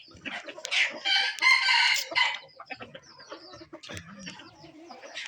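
A rooster crows loudly nearby, a long strained call, followed by softer clucking and scattered bird sounds; a young fighting rooster.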